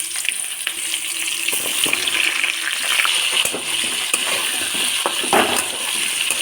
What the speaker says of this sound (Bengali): পটলটা সুন্দর করে ভেজে তারপর রান্নাটা করব আমি